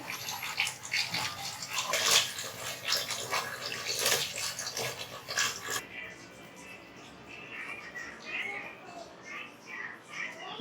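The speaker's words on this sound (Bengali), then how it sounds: "মাংসগুলা ধুয়ে নিব মাংসগুলো এখন ধুয়ে নিব ভালো করে" Beef pieces are washed in water by hand, with close splashing, sloshing and running water for several seconds before it fades to quieter dripping and handling.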